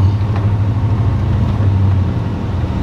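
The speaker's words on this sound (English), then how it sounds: "truck sounds amazing" A Chevy OBS pickup truck drives past with a deep, steady low engine rumble. The sound is fairly loud and continuous, with no speech over it.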